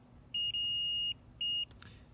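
A multimeter on continuity test beeps while probing a fuse on a Joy-Con, giving a clear high steady tone, then a short second beep, followed by faint handling clatter.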